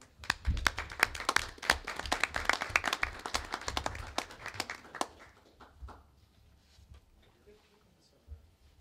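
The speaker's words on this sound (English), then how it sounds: "we're going to give him a round of applause for being here" A small group of board members claps for a new team member, with brisk, dense applause for about five seconds before it thins out and fades, leaving faint voices and a stray tap near the end.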